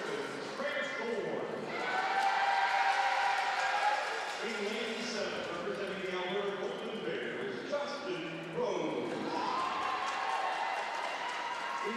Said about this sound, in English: Big cheer for the hometown hero.